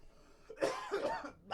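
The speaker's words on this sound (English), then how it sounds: "There's a smoker's cough for you." A rough, phlegmy smoker's cough burst, two or three harsh hacks close up with a bit of throat clearing.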